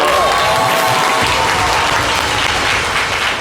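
Steady, dense applause from a crowd, loud and continuous throughout, with faint voices mixed in underneath.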